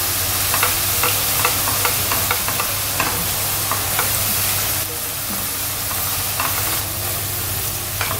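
Onion sautéing with sugar and ghee for onion payasam, a loud continuous sizzle with a rapid, regular ticking of a spoon stirring against the pan throughout.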